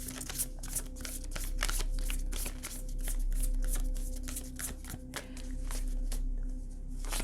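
Tarot cards shuffled and drawn from a deck, a quick run of crisp papery riffling flicks close by, steady and rhythmic, with faint soft handling noise and a low background hum.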